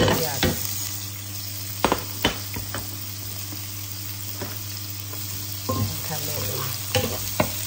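Onion hits a hot frying pan with ginger, a constant loud sizzle with a few sharp clatters of the spoon stirring, no talking.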